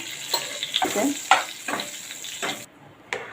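Cumin and red chili tempering sizzles in hot oil for dal palak, a loud crackling hiss with several sharp spoon scrapes and bursts before it suddenly cuts quieter near the end.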